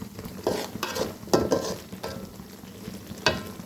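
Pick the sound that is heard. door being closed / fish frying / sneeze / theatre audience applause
fish frying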